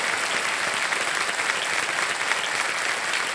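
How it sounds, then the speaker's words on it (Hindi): Steady, dense clapping from a large studio audience on the quiz show Kaun Banega Crorepati fills the entire stretch, loud and even without pauses. "एक बार फिर तालियों के साथ समाप्त करते हैं"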